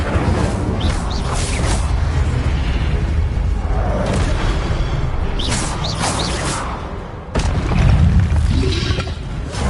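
Fire spell explosions in the video game Hogwarts Legacy, a string of booming bursts and whooshing flares over a continuous loud game soundscape, with a heavy thump near the end.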